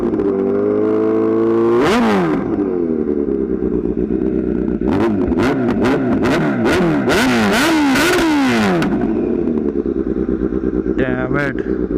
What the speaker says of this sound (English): We're testing a Z900 here with SE Project full system exhaust.